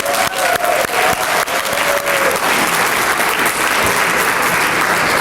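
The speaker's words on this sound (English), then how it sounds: "Please give them one final round of applause." An audience at a community awards dinner breaks into a final round of applause, dense clapping from a room full of people that holds steady for several seconds.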